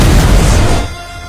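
A deep, booming blast from the Basilica, a giant cannon, loud and broad with heavy low rumble that holds for most of a second before fading into a dimmer rolling tail.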